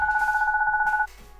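A telephone rings in the video game Goodbye Deponia, a steady warbling electronic trill that runs for about a second and then cuts off, leaving faint background sound.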